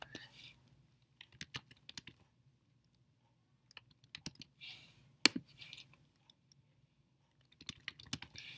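Light typing on a computer keyboard while an email is composed in Gmail, heard as sparse, soft clusters of key clicks with pauses between them, quiet and close.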